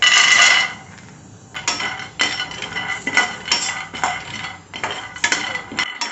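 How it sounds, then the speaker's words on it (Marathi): Almonds are dry roasted in a hot pan with the heat turned off, rattling and clinking against the metal. The bursts are loud and close, with a brief lull and then repeated stirring rattles. "आणि याच्यातच आता छान कडक असे बदाम भाजले जातील"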